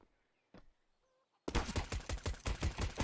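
Mag 10 shotgun fire in a CS:GO match: after a near-silent stretch with a faint click, a sudden close burst of rapid, heavy gunfire rings out continuously to the end.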